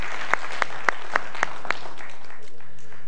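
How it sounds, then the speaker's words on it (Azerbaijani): Six sharp, evenly spaced claps ring out in a TV quiz studio as a contestant is sent off, each crisp and distinct, followed by quiet room tone. "Alqışlarla Nailə xanım yola salırıq"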